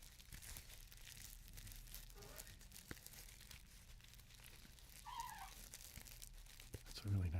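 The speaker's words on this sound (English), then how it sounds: "I hope that's not too loud with the crinkling." Crinkling material rustling and crackling in soft bursts close to the microphone, low in level, while someone talks throughout.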